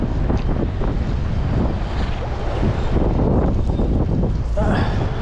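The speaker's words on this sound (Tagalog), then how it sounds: "Lumakas yung hangin oh." Strong wind roars loudly and steadily across an open fishing boat at sea, with broadband rushing and buffeting on the microphone throughout and water slapping beneath.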